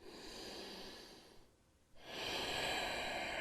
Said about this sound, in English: Slow, controlled breathing in and out of the nose.